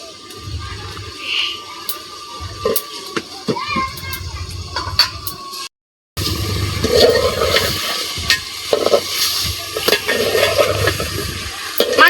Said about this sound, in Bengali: তা মুরগিটা আমি ভালো করে কষায় নেই